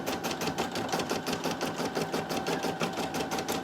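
An embroidery sewing machine stitches out a design at a quick, even rhythm, the needle's rapid repeating clatter continuing steadily at moderate volume with no talk.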